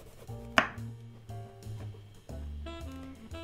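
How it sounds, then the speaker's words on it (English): A kitchen knife trims and chops an eggplant on a board: one sharp, loud thunk followed by a few softer cuts close by, with quiet tonal music in the background and no speech. "chop up the eggplant"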